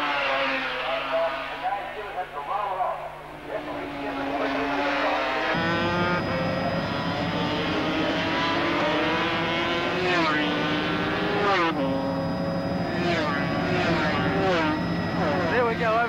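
Racing sidecar motorcycles at the 1983 Bathurst Sidecar GP, coming down the mountain: loud, high-revving engines drone and shift pitch as several machines pass in succession, under continuous commentary.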